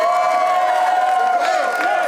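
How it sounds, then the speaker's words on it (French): Crowd at a French rap battle event cheering and applauding an MC, a dense wash of claps, whoops and shouts held loudly throughout with no gaps. "Tout le monde, on l'applaudit"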